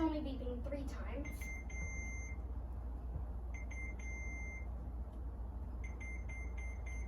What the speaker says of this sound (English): the rock is being detected by the sensors, but they aren't too close. So that's why it's only beeping 3 times.